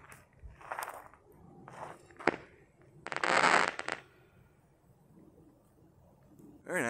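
A reclaimed homemade model rocket launches outdoors with a brief, loud rushing hiss lasting about a second, preceded by scattered crackles and pops, with people nearby faintly in the background.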